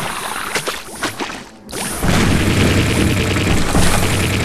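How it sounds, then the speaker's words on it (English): A deep boom erupts in the mining video game SteamWorld Dig, preceded by scattered clunks and a brief lull, then a sustained loud rumbling roar that lingers to the end. "That was just an explosion that happened."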